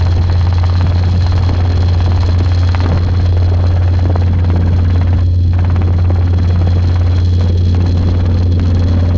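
A Robinson R22 helicopter in flight, heard from inside the cabin as a loud, steady, low rotor and engine drone with constant hum and no breaks.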